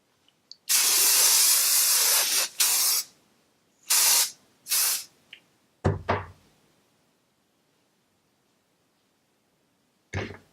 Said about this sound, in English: I'm going to add some Firm Hold hairspray by Suavecita. Give it a little shake.